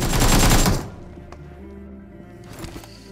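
Gunfire in PUBG mobile, a loud burst of rapid automatic shots for under a second, followed by quieter thuds and faint game sounds, close and without talk.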